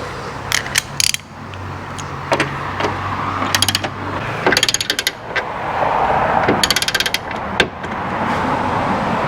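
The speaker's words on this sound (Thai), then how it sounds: "หลังจากนั้นเราก็มาไล่น็อตกัน" A ratchet wrench clicks in quick bursts while nuts are tightened during installation of hood struts on an Isuzu MU-7, with repeated ratcheting runs and metallic taps up close.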